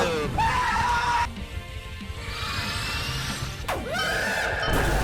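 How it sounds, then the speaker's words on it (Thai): Cartoonish screams in the Roblox game Throw Balls at People, two loud sliding shrieks separated by crashing game noise, close and dominant. "ใครจะมาร้องกรี๊ดแถวนี้"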